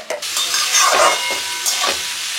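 Gobindobhog pulao flavoured with nutmeg powder and garam masala gets stirred in a pan, sizzling and hissing steadily, with a few scraping sweeps of the spoon close by.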